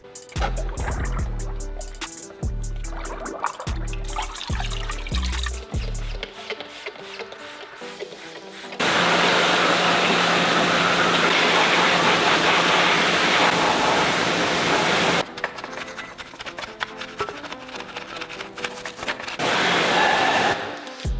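A Honda NSX cylinder head is pressure washed after a degrease and gasoline soak. After a stretch of music, a steady, loud broadband spray hiss runs for several seconds, stops, then returns briefly near the end.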